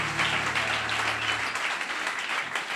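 A church congregation breaks into sustained applause to acclaim the Lord, a dense, steady wash of clapping from many hands that carries on throughout.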